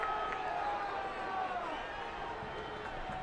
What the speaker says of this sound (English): A raucous cheer from the Spokane faithful.